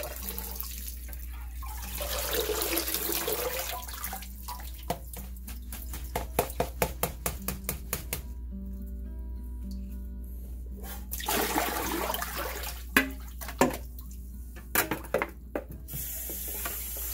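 Water pours out and splashes in sloshing bursts, then trickles and drips in a run of short uneven spatters, fairly close, with no talking.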